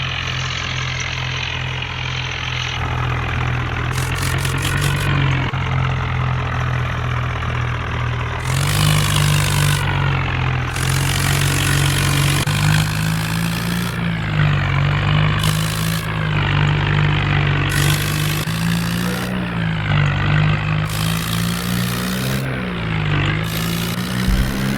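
A John Deere tractor engine runs steadily and loud nearby, a continuous low diesel drone with slight shifts in pitch as it is throttled during a power test.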